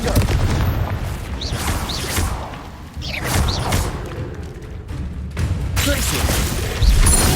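Confringo fire spells in Hogwarts Legacy go off as loud booming blasts with whooshes and thuds, one after another, over constant game noise, with a voiced spell call.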